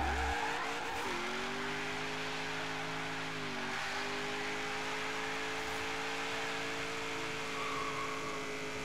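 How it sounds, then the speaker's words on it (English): Tire squeal from a V8 Holden Commodore in Forza Horizon 3, a sustained loud screech layered over a steady droning engine note, held for several seconds with no talking. "Roasting tires"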